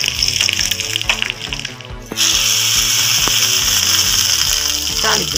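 Mustard seeds, urad dal and dried red chillies crackle and splutter in two spoons of hot oil for tempering, a dense, continuous loud sizzle with sharp popping, close up and without talk.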